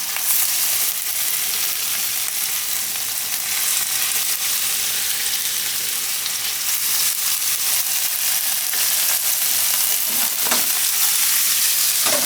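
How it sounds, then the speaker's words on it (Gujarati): Paneer is stir-fried in a pan until browned. A loud, close, unbroken sizzle fills the whole stretch, with light stirring scrapes now and then and no talking. "થોડુંક આને બ્રાઉન થાય એવું ફેરવીને શેકી લેવું આપણે."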